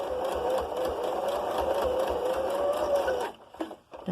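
A sewing machine runs steadily, stitching the bottom seam of a fabric face covering, with a close, even motor whir for about three seconds before it stops and a few soft handling sounds follow.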